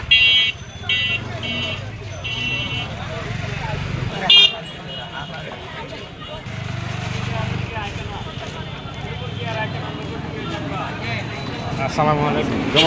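Traffic moves along a big road through a market, with horn toots and engine noise around a steady roadway hum, while someone talks close by throughout.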